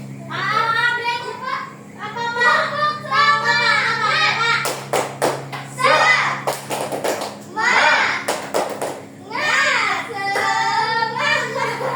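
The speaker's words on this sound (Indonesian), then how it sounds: "Tepuk semangat dulu." Schoolchildren in a classroom do a rhythmic spirit clap, bursts of sharp clapping mixed with loud chanting voices and cheering in repeated patterns.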